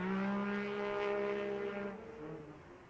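An old Yamaha racing snowmobile drones loudly as it works down into turns one and two at the World Championship Snowmobile Derby, a sustained torquey engine note that fades as the sled moves off.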